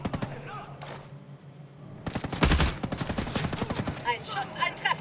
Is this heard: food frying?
no